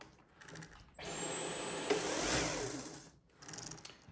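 A Dyson V15 Detect cordless vacuum cleaner whirs for about two seconds with a high-pitched motor whine and airy rush, starting and stopping abruptly between quieter moments, close and loud with no talk.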